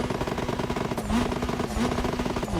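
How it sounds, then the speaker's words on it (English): A Ford Puma Hybrid Rally 1 car in The Crew Motorfest, fitted with a rumble and tumble backfire kit, revs hard and fires off rapid crackling exhaust pops and bangs in a dense, loud, continuous burst. "the rumble and tumble backfire kit"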